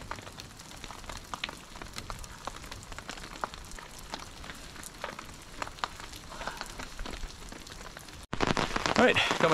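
Rain pattering steadily on a tarp at a wet creek campsite, a dense soft crackle of drops with scattered sharper taps, then louder heavier spattering near the end; faint voices may sit underneath.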